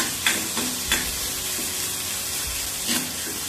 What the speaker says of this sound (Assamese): ভাজি ল'ম নহৰু পিঁয়াজৰ গোন্ধ যোৱালৈকে।